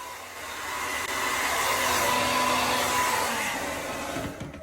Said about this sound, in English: once I diffuse it and I go in with the shot of cold air